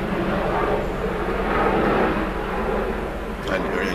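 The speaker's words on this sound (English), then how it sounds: "And here we come with a helicopter again." A helicopter passing right overhead gives a broad, steady rumbling drone that stays loud and close throughout, with faint background noise.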